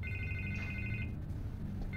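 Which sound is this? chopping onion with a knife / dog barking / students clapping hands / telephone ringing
telephone ringing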